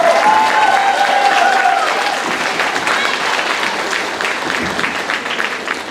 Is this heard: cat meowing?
no